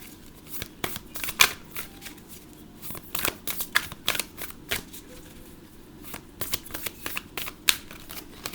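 Tarot cards being shuffled and drawn at close range, a rapid run of crisp riffling snaps and flicks in uneven bursts, with no voice over them.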